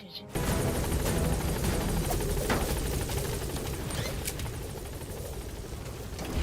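A military helicopter in Metal Gear Solid V whirs loudly and steadily, its dense rotor wash and engine roar starting abruptly and filling the whole stretch close by, with no speech over it.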